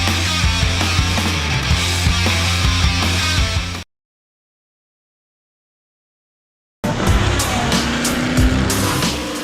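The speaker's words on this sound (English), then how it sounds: "So we're at Monza, racing for RJ Motorsport in a new Nissan GTR Nismo GT3." A Nissan GT-R Nismo GT3 race car runs at Monza for RJ Motorsport, its loud engine roaring close. The roar cuts out into silence for a few seconds, then returns with no voices.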